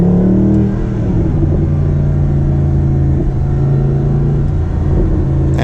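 A loud Mercedes SLS AMG V8 engine rumbles and revs with a deep, throaty drone, holding steady pitch with slight surges throughout.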